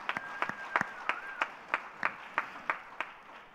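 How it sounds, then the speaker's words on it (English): An audience at a developer conference applauds, the claps faint and distant, coming in a steady, evenly spaced rhythmic pattern. "A huge round of applause for everyone in the top 3."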